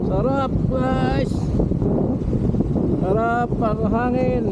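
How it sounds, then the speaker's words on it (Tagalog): Strong sea wind buffets the microphone while parasailing off Boracay Island in the Philippines, a constant roar under nearby voices talking. "Sarap ang hangin."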